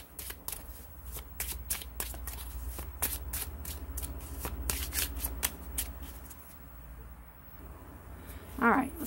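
Tarot cards are shuffled for a reading in a run of crisp riffling flutters and taps close to the listener. A voice speaks briefly at the very end.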